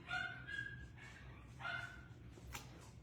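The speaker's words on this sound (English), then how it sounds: "my dogs are going crazy outside" Dogs bark and yip outside, muffled and fairly distant, a few sharp bursts with a faint whine between them against a low indoor hum.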